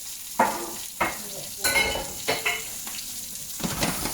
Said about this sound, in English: Mushrooms cooking away there quite nicely.